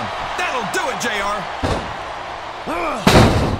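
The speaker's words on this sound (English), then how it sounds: "What a chokeslam!" A chokeslam lands with a loud, booming body slam onto the ring mat in the WWE SmackDown vs Raw 2008 wrestling video game, a second heavy thud following, while game commentators talk over the action.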